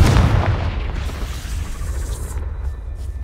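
A Confringo spell explosion in Hogwarts Legacy, a single heavy boom at the start decaying into a low rumbling tail, loud and close with no speech.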